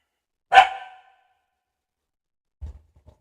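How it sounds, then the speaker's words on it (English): A pet dog gives one sharp, loud bark indoors, followed by quiet and a few faint thumps. "That's my dog."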